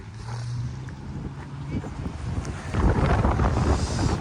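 Strong wind gusts buffet the microphone outdoors on a snowy, sunny day in Canada, a continuous roaring rush that swells louder in the second half.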